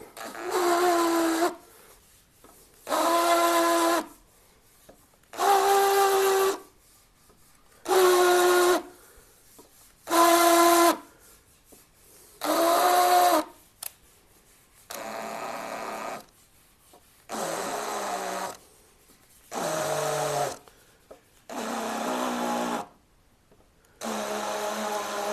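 A hand tool bevels a hole in lacquered hardware, heard as a series of about ten short, loud grinding whirs, each lasting a second or two and separated by brief pauses, with no talking.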